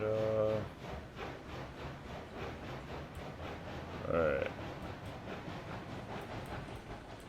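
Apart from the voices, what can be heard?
locomotive pulling forward in RailRoads Online video game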